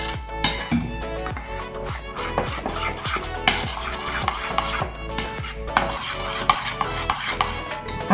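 A spoon stirs water into a bread pakora batter to make a smooth, lump-free paste, giving repeated rhythmic scraping and rubbing strokes against a bowl, close and fairly loud, with no talk.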